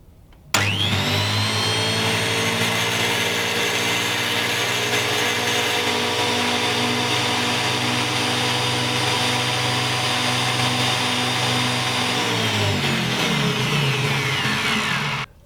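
A Scheppach PLM1800 1500 W electric planer-thicknesser starts abruptly and runs at a steady, high-pitched roaring whine for about twelve seconds, then spins down and stops.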